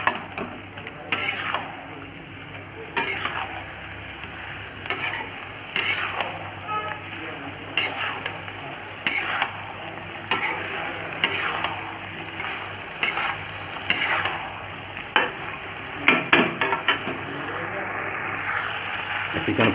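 Chicken stirred and fried in a pan for pepper chicken, with scraping and clattering stir strokes over a continuous sizzle. Sporadic loud metallic knocks sound close by.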